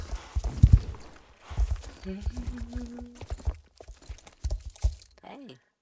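Horse hooves clip-clop in a steady rhythm during a race in the Star Stable Online video game. People talk over the hoofbeats, and a short tonal game sound rises in the middle.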